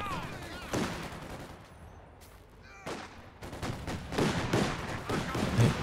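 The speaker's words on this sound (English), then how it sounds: "Flak half track providing suppression, preventing them from being regathered in." Flak half-track gunfire in a World War II strategy video game, several bursts of distant, muffled shots rattling in clusters over a low background rumble.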